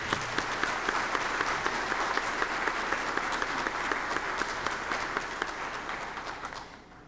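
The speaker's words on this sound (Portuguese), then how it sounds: "a quem eu peço uma salva de palmas." Sustained audience applause at a congress opening ceremony as a Brazilian army band departs, dense steady clapping for about six seconds that tapers off near the end.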